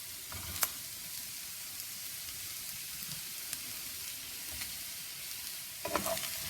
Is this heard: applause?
no